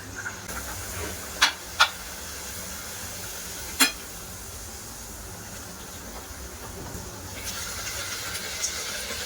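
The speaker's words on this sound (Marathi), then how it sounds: "तेल छान गरम झालेलं आहे त्यामध्ये आता आपण ह्या पुऱ्या सोडूया" Puris deep-frying in hot oil give a steady, close hiss, with three sharp metallic clinks in the first few seconds and no voices.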